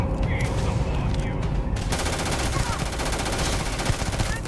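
In Starfield, sustained rapid weapon fire rattles as a continuous burst, loud and close, with a steady stream of shots.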